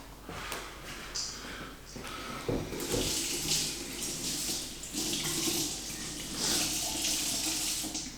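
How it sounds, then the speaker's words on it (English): Vegetables rinsed under a running kitchen tap, a steady hiss of water splashing into a sink with shifting intensity as the produce is moved through the stream, close and continuous with no talking. "I'll just give these a rinse now"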